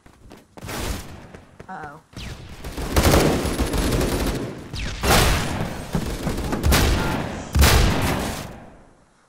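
Bursts of gunfire from the online shooter game Phantom Forces, loud and dense, arriving in several clusters of rapid shots with a short voice exclamation early on.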